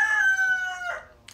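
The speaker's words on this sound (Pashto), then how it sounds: "دې چرګ زه ډېر تنګ کړی یم." A single rooster crows close and loud, one long drawn-out call that rises and then trails off, heard alone with no voices around it.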